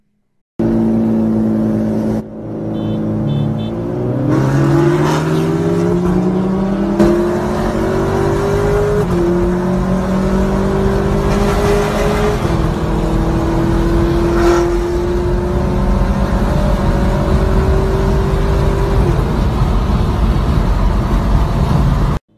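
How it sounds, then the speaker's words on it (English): Loud, continuous engine roar from a tuned Honda Civic Type R and a Dodge Challenger Scat Pack street racing, with rising revs and gear shifts heard close throughout, with no talking. "These exhausts already sound pretty loud"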